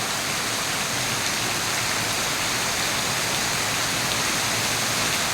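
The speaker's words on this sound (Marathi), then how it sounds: "खूप जास्त पाऊस पडतोय" A steady downpour of heavy monsoon rain in Mahabaleshwar, near a temple, hisses and roars continuously, thick and unbroken throughout.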